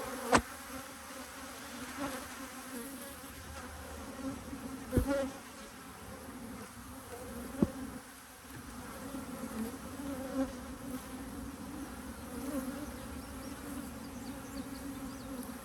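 Honey bees buzz steadily around an opened hive being split with queen excluders, a dense continuous drone with a few louder close passes and light handling knocks.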